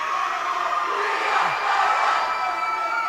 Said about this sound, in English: the Raider student crowd is getting everybody fired up